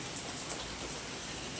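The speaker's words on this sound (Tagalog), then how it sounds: "Eh, kaso ang lakas na ng ulan." Heavy rain pouring during a typhoon, a steady dense hiss with no clear gaps, close and even throughout, spread broadly across the spectrum.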